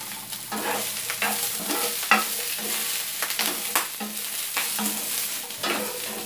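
Onions, carrots and celery stir-fried in a hot pan, with a steady sizzle broken by repeated scraping and tossing strokes of a spoon, close up with no talk.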